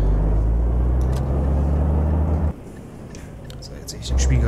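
A truck pulls out in Euro Truck Simulator 2, its engine rumbling low and steady, briefly dropping away mid-clip before swelling back, with faint clicks and a whispery voice over it.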